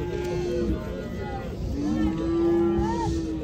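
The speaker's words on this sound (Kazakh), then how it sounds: "Мал аябай көп екен достар." Cattle moo loudly at a busy livestock market, with drawn-out lowing calls rising over a steady crowd babble and nearby chatter.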